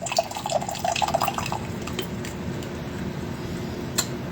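Oriental Beauty oolong tea being agitated as it steeps, giving light clinks and small liquid drips and splashes early on, then a quiet steady background with an occasional faint tick.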